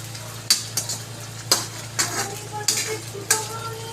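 Sweet potato leaves and sardines sautéing in a pan, a soft steady sizzle broken by several sharp scraping knocks of a utensil stirring against the metal, close and without talk.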